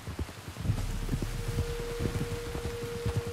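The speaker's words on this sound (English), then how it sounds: "You were right about the damn rain." Rain falling steadily outdoors, a soft continuous patter with scattered heavier drops and low rumbling underneath, no voices.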